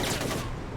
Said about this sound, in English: I got confused on how I heard gunshots